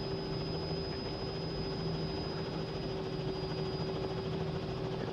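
Helicopter lifting off in a flight simulator game as the collective is gently raised, a steady loud rotor and turbine drone with a constant high whine, unbroken and without talk.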